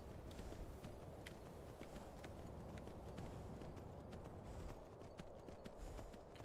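Hooves of a horse galloping at a sprint in Skyrim, a video game, drumming steadily and fairly loud throughout with no pauses and no talking.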